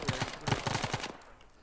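Gunfire from an ARMA 3 firefight: a rapid burst of close automatic shots in an even rhythm, cutting off abruptly into a faint tail.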